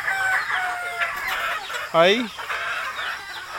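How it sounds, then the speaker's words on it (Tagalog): Farm chickens clucking close by, with a rooster's rising crow cutting in near the middle and scattered bird calls around it; a person briefly exclaims at the start. "Dito sa aking mga manok."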